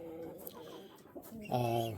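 Chickens cluck in a snowy homestead coop, close and fairly quiet, with several short clucks followed by a longer drawn-out call.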